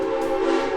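A Silver Dollar City theme park train sounds its whistle in a steady, sustained tone close by, holding for the full moment without voices.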